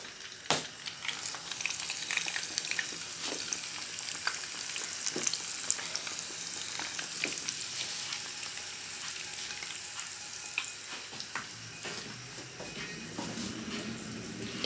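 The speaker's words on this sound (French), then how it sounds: "Après, je vais le mettre dans l'huile." Homemade KFC-style chicken fries in hot oil with a steady, dense crackling sizzle that carries on throughout, with occasional soft clatter of a utensil nearby.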